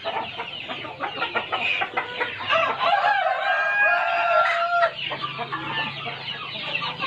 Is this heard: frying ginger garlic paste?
no